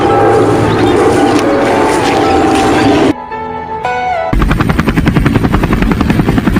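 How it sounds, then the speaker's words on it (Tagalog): A helicopter in a war scene set in Ukraine or Russia, its rotor beating loud and close in a continuous whine, briefly dipping and thinning midway before the heavy rhythmic chop returns. "Napot nato helikopter!"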